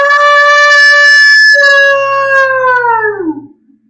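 A man imitating a wolf howl, one long sustained voiced note held steadily, then sliding down and trailing off near the end, loud and close with no other sound.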